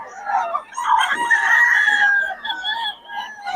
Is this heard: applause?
no